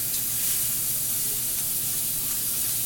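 Shrimp sear in a hot pan right after being flipped, giving off a steady, close, loud sizzling hiss that carries on unbroken and without speech.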